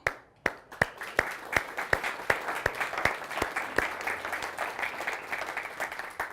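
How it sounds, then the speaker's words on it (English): Audience applause for a leader at a talk on crew resource management, opening with a few sharp separate claps that swell into steady, fairly close applause from a crowd, with no talking over it. "So, Mr. Walken, I want to give you a hand clap."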